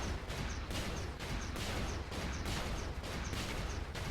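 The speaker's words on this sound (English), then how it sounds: "that was the husks of the tanks I destroyed blowing up" Destroyed tank husks exploding in the mech combat video game Brigador, a dense, continuous barrage of overlapping blasts and booms rolling on without pause at steady loudness.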